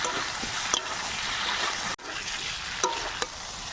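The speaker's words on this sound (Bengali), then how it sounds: "সবজি আর মশলা আবার একটু ভালো করে কষিয়ে নেব" Vegetables with cumin, green chilli and ginger paste stir-fried in a pan for a papaya and singhi fish curry: a steady close sizzle, broken by a few scraping stirs and one brief cut in the sound.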